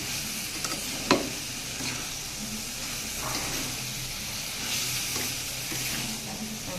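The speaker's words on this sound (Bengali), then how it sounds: "এবার এটাকে নেড়ে চেড়ে মিশিয়ে আর একটু জল দিয়ে দেবো।" Bottle gourd curry stirred and mixed in a pan, with a steady soft sizzle and scraping throughout and a sharp utensil knock near the start.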